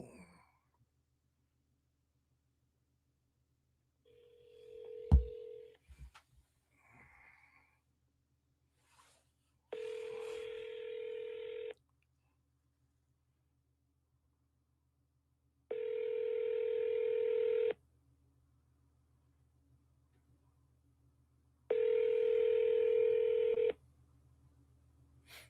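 A phone line to a 910 area code number gives a short keypad beep, then three evenly spaced ringback tones about six seconds apart, each lasting roughly two seconds, clear and alone over faint background noise.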